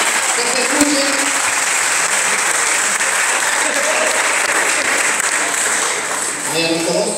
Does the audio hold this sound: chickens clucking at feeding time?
no